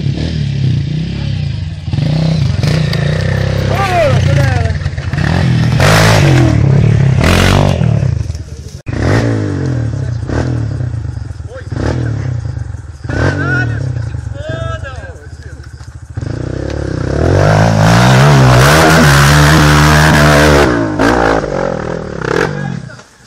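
A motorcycle rides down a dirt trail, its engine revving and droning loudly up close with clattering and scraping, while people talk over it throughout.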